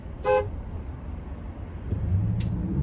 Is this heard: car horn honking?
yes